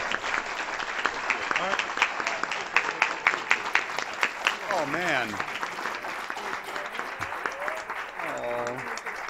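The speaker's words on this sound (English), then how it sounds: "Let's all give him one more nice round of applause." Audience at a county board of supervisors meeting giving a sustained round of applause, steady rapid claps throughout with a voice speaking over it.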